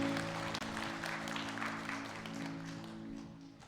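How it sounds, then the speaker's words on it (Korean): A church congregation applauds during Sunday worship, a steady, fairly soft wash of clapping over sustained keyboard or organ chords that hold underneath throughout. "우리를 붙드시고 일으켜 세우시는 주님께 영광의 박수 올려드리겠습니다"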